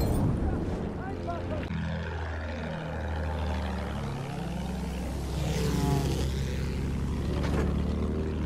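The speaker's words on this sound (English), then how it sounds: "Enemy plane in sight." An enemy propeller plane in Battlefield 1 drones past, its engine tone rising and falling in pitch as it flies by, with gunfire and battle noise around it and voices talking over it.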